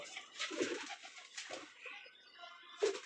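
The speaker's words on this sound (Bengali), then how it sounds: "তো এটা একটা মাদি কবুতর, এটা এই জায়গায় থাকে।" A female pigeon coos softly nearby in a few short, low, throaty calls with brief pauses between them.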